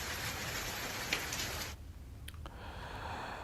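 Heavy rain with hail falls in the Shahpura area, a dense steady hiss that cuts off sharply, followed by quieter scattered patter and a few brief sharper hits.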